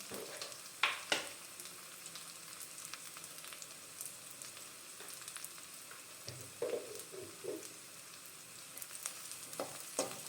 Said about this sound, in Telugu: కాసేపు అలా వేయించుకోవాలి.